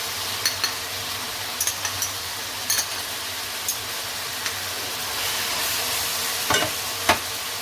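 Ginger, garlic and green chili fry with chicken in a pan, a steady close sizzle with occasional light scrapes and clicks of stirring.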